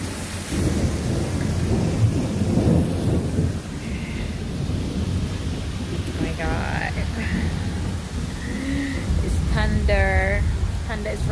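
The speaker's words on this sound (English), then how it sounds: "Thunder is rumbling now" Thunder rumbles through a steady wash of rain outdoors near a fountain, a low continuous roar across the whole stretch, with birds chirping briefly toward the end.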